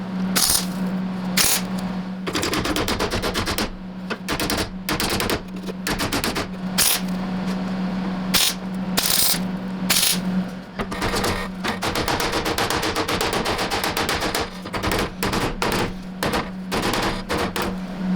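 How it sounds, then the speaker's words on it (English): Repeated sharp metallic hammer blows folding a sheet metal flange on a Triumph TR4 inner sill, loud and close, coming in irregular bursts over a steady low hum. "All right, so I banged this flange down"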